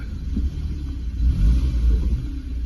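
A BMW car engine that has sat unused on old stale fuel runs with a low, close rumble, swelling a little partway through, with no one talking.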